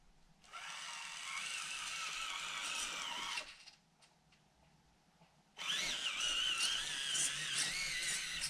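Whirring gear drive of an FMS Atlas 1/18 scale 6x6 RC truck running close by: two sustained bursts of rolling gear noise with a short quieter gap between them, no voices.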